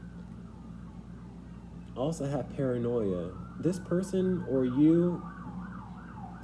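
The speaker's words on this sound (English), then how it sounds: "excuse the sirens" An emergency vehicle siren wails and glides in pitch somewhere outside, partly masked by someone speaking close to the microphone.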